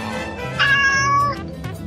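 A single clear cat meow rises and falls in the middle of a busy background, close and fairly loud.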